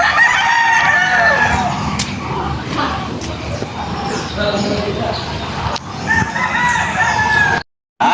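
Roosters crow repeatedly on a chicken farm, with loud, close cock-a-doodle-doo calls near the start and again toward the end, among clucking fowl and background voices.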